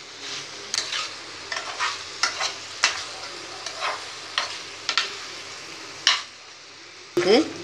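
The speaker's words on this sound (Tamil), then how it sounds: "இதையும் போட்டு நல்லா பெரட்டி விட்டு நல்லா பெரட்டி விடுங்க" Fried egg pieces being stirred through Egg Manchurian in a pan, with a steady background sizzle broken by repeated scraping strokes of a spoon against the metal, plus a louder clatter near the end.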